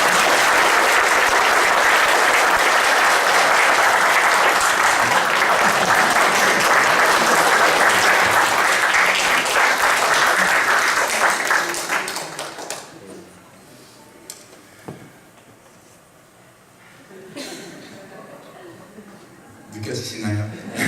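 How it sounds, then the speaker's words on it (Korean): A church congregation claps in warm, sustained applause to welcome the pastor, loud and dense for about twelve seconds before fading into quiet room noise with scattered soft sounds. "목사님 나왔을 때 박수로"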